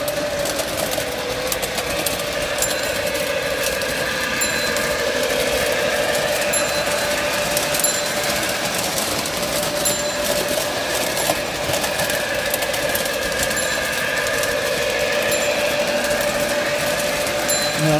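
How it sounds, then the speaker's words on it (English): Western Maryland model train set running steadily on a Christmas layout in an attic, a continuous mechanical hum and whir with a faint ringing bell tone, constant and close throughout. "Start up the Western Maryland set. Running pretty nice."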